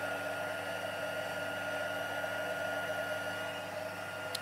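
A heat gun blowing steadily on black embossing powder as it melts, a continuous loud whooshing hum with no breaks and no talking.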